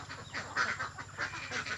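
Ducks quack in a loose chorus of nasal honks, close by and fairly soft, several calls overlapping with no talking.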